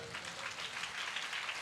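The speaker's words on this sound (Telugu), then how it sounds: "చప్పట్లు కొట్టండి" Church congregation clapping together during a Sunday service in Ramagundam, a steady dense wash of applause filling the room.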